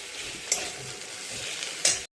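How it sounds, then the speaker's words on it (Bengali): Greens frying in a pan with coriander-cumin powder, a steady soft sizzle with two brief louder bursts, close and alone. "ধনে জিরের গুঁড়ো দিয়ে একটু সময় ভেজে নেব"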